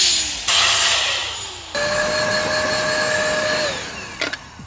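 Compo Cleaner 2.0 electric duster blowing a strong, steady rush of air with a whining motor tone that shifts pitch as it spins up and changes speed, close and loud, then cuts off with a few clicks.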